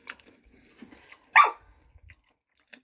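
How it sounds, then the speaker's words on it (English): A single sharp dog bark rings out close by, with a faint second yip near the end amid quiet room sounds. "She's barking for nuts."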